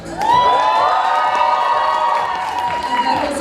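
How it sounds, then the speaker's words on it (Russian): A crowd of supporters in a university hall during a Mister BashGU contest cheers loudly, with shrill whoops and shouting voices merging into a continuous, close roar for the whole stretch. "теперь самое время услышать команду болельщиков"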